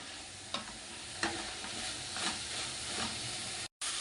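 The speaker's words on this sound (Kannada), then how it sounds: "ಇದು ಫ್ರೈ ಆಗಬೇಕು" Chutney ingredients fry in a pan with a steady sizzle, and a spoon scrapes through them at intervals to stir.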